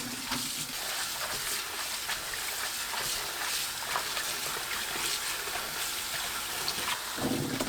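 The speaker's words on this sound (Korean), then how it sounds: "염장 쌈다시마는 물에 두세 번 헹궈 소금을 씻어냅니다" Salted kelp for wrapping rice is rinsed by hand in a bowl of water, giving steady splashing and trickling with soft sloshes throughout, close and fairly quiet, with no talking.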